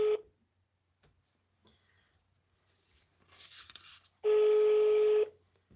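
A telephone number being dialed, with a short tone at the start, faint clicks and rustling, then a long steady dial tone near the end, clear and without speech.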